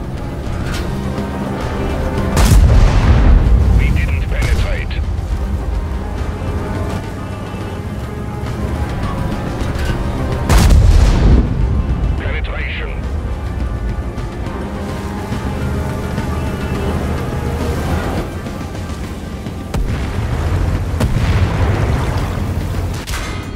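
A World of Tanks match with the Waffenträger Waldhaus: a steady engine rumble carries a few deep, booming cannon shots spaced several seconds apart, each followed by a brief rolling echo.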